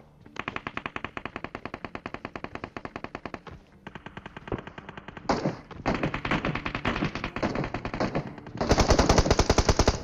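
Automatic gunfire and shotgun blasts in the video game PUBG Mobile, rapid evenly spaced bursts of loud shots broken by short pauses and a few heavier thuds, dense and close with no talking.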